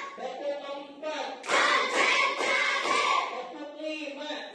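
A classroom of children claps in rhythm. Bursts of sharp, dense clapping rise over and between the voices of a class chanting together.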